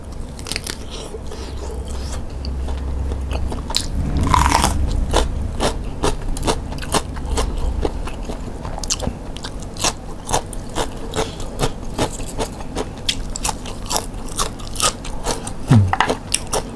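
Glass noodle sausage being bitten and chewed up close, with one loud crunchy bite followed by a long run of rapid, crisp, sticky chewing clicks, loud and alone.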